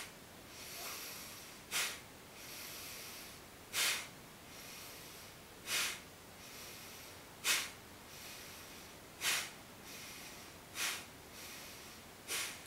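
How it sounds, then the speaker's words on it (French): Rapid, forceful exhalations during a fire-activating breathing exercise: sharp puffs of air sounding roughly every two seconds over a soft breathy background, quiet and close, with no talking. "l'idée c'est vraiment d'expulser l'air et on va faire ça de manière soutenue et un petit peu de plus en plus rapide"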